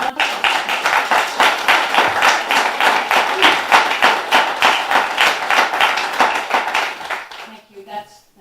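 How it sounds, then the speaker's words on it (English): An audience applauds steadily for several seconds, dense clapping that fades out near the end with a few scattered claps. "If you want to give them a round of applause."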